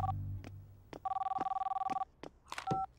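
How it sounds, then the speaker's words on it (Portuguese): A cartoon telephone rings in a rapid trilling electronic burst lasting about a second, clear and close, with brief scattered sounds before and after. "Alô, Amber? Olá! Estamos saindo pra cavalgar. Eu posso te ligar depois?"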